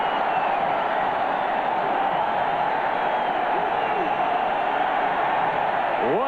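A packed stadium crowd roars after an overtime touchdown in a 1993 Dolphins at Patriots NFL game, a steady, dense wall of cheering noise that holds at the same loud level throughout.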